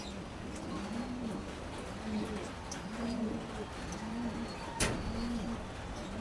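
Pigeons in a loft coo in a steady, repeating low rhythm, several soft calls spaced about a second apart, with light rain and a single sharp tap near the end.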